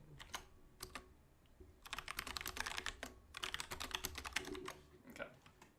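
Rapid bursts of typing on a computer keyboard during a casual reading-and-chat livestream, clicking in quick uneven clusters, with a brief lull before denser runs of keystrokes, close and fairly quiet.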